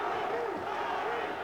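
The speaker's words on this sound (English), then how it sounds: "And the crowd chanting for the truth." Boxing arena crowd at a world heavyweight title fight, chanting in a rising and falling rhythmic cadence, a dense roar of many voices heard from a distance.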